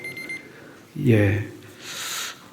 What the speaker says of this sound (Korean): 알람이 울렸습니다